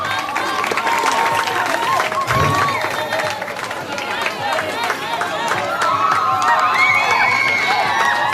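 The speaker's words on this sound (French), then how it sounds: "Applaudissez fort là." A school fête crowd of children and adults cheers and applauds continuously as a Miss winner is crowned, with shouting voices and talk mixed through the steady, loud noise.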